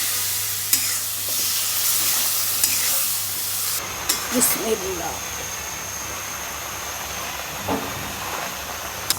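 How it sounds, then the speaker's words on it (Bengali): Potatoes and prawns sauté in a pan with a bright, hissing sizzle that fades out partway through. A few scrapes and knocks follow against a quieter background with a steady high tone. "আলু আর চিংড়ি মাছ কষানো হোক"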